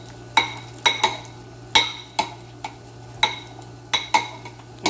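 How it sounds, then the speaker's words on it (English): A spoon scrapes and taps against a baking dish while smoothing a ground chicken mixture, a series of sharp clinks spaced irregularly over a low steady hum. "Just use your spoon and smooth that out."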